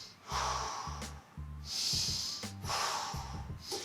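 Deep, slow breathing during a hip flexor stretch, loud close inhales and exhales in a few long, rhythmic cycles, heard alone without talk.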